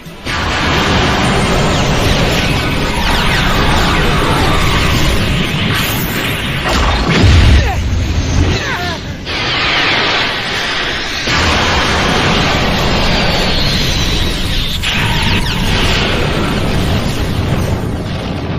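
Loud, dense explosions and crashing blasts fill an anime space battle as enemy pods are destroyed, with a heavy boom near the middle and faint voices now and then under the continuous roar.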